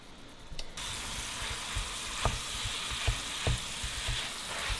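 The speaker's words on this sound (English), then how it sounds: "Once all that starts sizzling, I just keep stirring it until I get that done." Meat for Brunswick stew sizzles steadily in a pan, with soft scraping stirs of an old spoon knocking through the frying hiss at irregular intervals.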